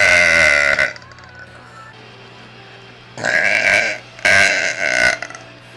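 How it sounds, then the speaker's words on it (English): A woman gives a long, loud, deep burp, and after a quiet gap two more drawn-out burps follow back to back, all close to the microphone. "I can't help my burps."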